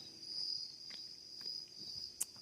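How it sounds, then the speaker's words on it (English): Crickets chirp at night in a forest near Riverhead, New York, as a steady high trill that runs throughout, with a few soft taps and rustles and no voices. "I feel like I'm louder by the crickets and stuff right now"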